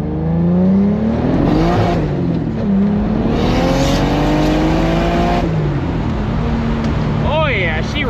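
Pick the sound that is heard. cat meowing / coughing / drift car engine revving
drift car engine revving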